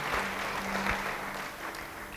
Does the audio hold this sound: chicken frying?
no